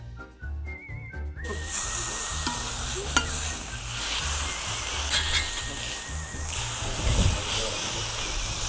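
Smashed burger patties sizzle loudly and steadily in a hot pan, a dense continuous frying hiss that starts abruptly and holds throughout, with occasional scraping and clinks over it.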